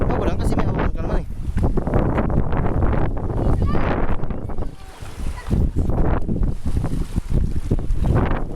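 Strong wind buffets the microphone in gusty, roaring bursts near a boat on open water, with people talking over it at times.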